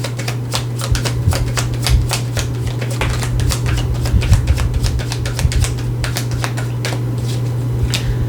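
Tarot cards shuffled by hand during a twin flame reading, giving a close, steady run of quick, irregular crisp clicks and flicks for several seconds over a constant low electrical hum, with no voices.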